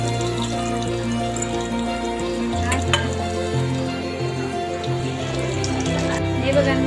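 Food fries in ghee with a steady, close sizzle and occasional stirring scrapes while a voice talks over it.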